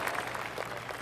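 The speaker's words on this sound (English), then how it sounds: "Oh, golf clap." Polite golf clap from a gallery of spectators in the video game PGA 2K25 after a second shot to a bunker-ringed green, a brief, soft, steady patter of applause with no talk over it.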